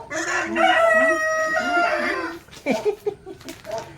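A rooster crows loudly and close by in one long drawn-out call, followed by a few shorter clucks and rustling.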